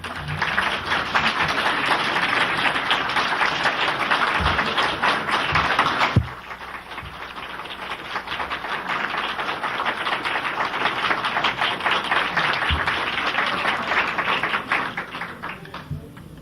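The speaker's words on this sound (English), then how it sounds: "I take this applause for the Popes Gregory XVI, Pius IX, Leo XIII, Pius X, Pius XI, and Pius XII" Audience applause in a hall after a sermon by a Catholic priest, a dense, fairly loud patter of many hands that dips briefly then continues steadily to the end.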